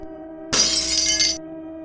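A glass teacup hits the floor and shatters in one sharp, bright crash whose glittering fragments ring on for under a second before cutting off, with a steady hum beneath.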